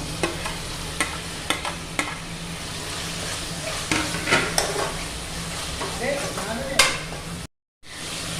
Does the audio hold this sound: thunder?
no